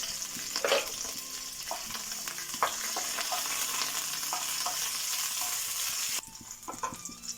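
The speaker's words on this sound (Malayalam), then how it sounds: "ചെറിയ ഉള്ളി, കറിവേപ്പില, കുറച്ച് ഉലുവ, ഇത് മൂന്നും ഇട്ടിട്ട് നന്നായി ഒന്ന് വറുക്കാം" Shallots, curry leaves and fenugreek seeds fry in coconut oil with a constant bright sizzle, while a spoon scrapes and stirs in a few sharp clicks.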